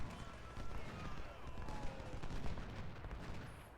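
Distant massed musket and artillery fire from an American Civil War battle at Iuka in Ultimate General: Civil War, a faint, continuous rumbling crackle of volleys with no talk.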